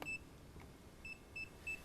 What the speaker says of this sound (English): The goggles have started beeping, and then they stopped beeping